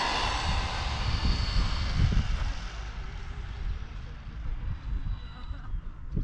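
Arrma Senton 3S RC car driving at half throttle outdoors, giving a steady whirring motor drone with rumbling low-end noise throughout, fairly loud and continuous with no clear changes in pace.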